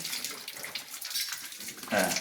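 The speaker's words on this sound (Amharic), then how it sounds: "ስለዚህ እነዚህ የውዱ ማድረጊያችን ውሃዎች ናቸው" Water running steadily from ablution taps at a mosque, a close, even hiss and splash that swells slightly near the end, with no talk.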